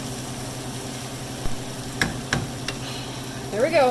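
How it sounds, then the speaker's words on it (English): Mushrooms and peppers sizzle in a crowded frying pan, a steady low crackle broken by a few sharp clacks of stirring, with a voice speaking briefly over the sizzle. "We're just going to go ahead and throw in my mushrooms."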